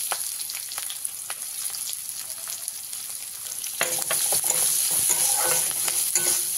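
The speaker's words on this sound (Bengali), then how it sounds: "পেঁয়াজটাকে একটু ভালো করে ভাজা ভাজা করে নেব।" Onions, green chillies and whole cumin frying in a pan with garam masala, giving a steady bright sizzle. Scraping stirs and clicks break through the sizzle, which grows fuller and louder partway through.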